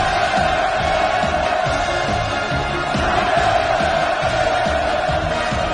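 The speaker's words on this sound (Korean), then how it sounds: "폭풍 같은 만세 환호성이 하늘 땅을 진감했습니다" A huge crowd at the opening ceremony of the Wonsan Kalma coastal tourist zone roars in sustained hurrah cheers, a loud, unbroken wall of massed voices with no break for the whole stretch.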